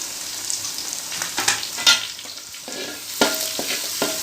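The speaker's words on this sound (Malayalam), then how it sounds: "ഇതെല്ലാം കൂടി കിടന്ന് വെളിച്ചെണ്ണയിൽ നല്ലോണം കിടന്ന് വഴന്ന് കിട്ടുന്നത് വരെ ഇളക്കി കൊടുക്കുക." Prawn pickle masala with green chillies and curry leaves being sautéed in coconut oil, a soft background sizzle broken by repeated sharp spoon scrapes and knocks against the pan at an uneven pace.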